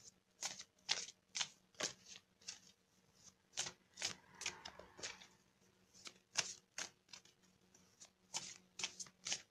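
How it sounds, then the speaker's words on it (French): Oracle cards shuffled by hand, a close, quiet series of quick riffling flicks repeating in irregular bursts throughout, with no talk. "on va tirer une carte d'énergie de guérison"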